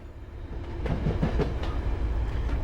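A locomotive in Train Sim World 5, an MBTA commuter train hauled by an HSP46 at about 30 mph, rumbles steadily with a low, heavy engine drone and faint rhythmic wheel clatter, growing slightly louder after the start.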